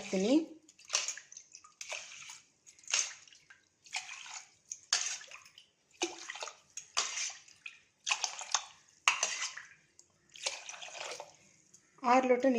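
Water is poured in repeated short splashing bursts onto washed rice and roasted moong dal in a pot, about a dozen pours in a row, close and fairly quiet.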